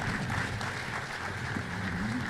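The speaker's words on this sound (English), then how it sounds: "let's give the panel a round of applause" Applause for a panel at a symposium, a steady wash of clapping from an audience that holds evenly for a couple of seconds.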